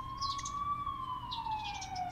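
An ambulance siren in the video game The Coma: Recut holds a steady high wail that slowly drifts downward in pitch, moderately near over a low ambient hum, with faint chirping birds breaking in.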